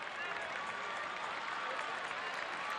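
Stadium fans at a Tampa Bay Rowdies versus Indy Eleven soccer match give a substituted player a round of applause, a steady, distant wash of clapping and crowd noise heard at a fairly low level.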